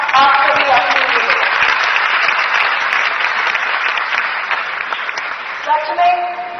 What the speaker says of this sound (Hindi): एक बार जोरदार तालियां आप सभी अपने लिए